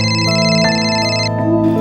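A mobile phone ringtone plays loud and close, a bright electronic melody of repeating tones lasting under two seconds with no talk over it.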